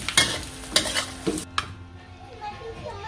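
Sesbania flowers stir-fried with mushroom oil and pepper, several sharp spatula scrapes and clinks against the pan over a light sizzle, then a quieter stretch of soft frying.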